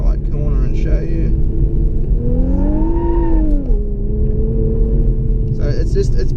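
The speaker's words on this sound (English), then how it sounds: "it'll spin one wheel quite easily. Let's go around this tight corner and show you." A 2017 Infiniti Q50 Red Sport 3.0 twin-turbo with stability control off takes a tight corner, its engine droning loudly close by and rising in pitch as the inside wheel spins, then settling, with someone talking over it.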